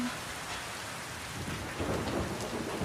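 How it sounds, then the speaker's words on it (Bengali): Steady heavy rain falls close by with a low thunder rumble beneath it, the storm swelling slightly louder toward the end, with no voices. "বৃষ্টি পড়ে টাপুর টুপুর"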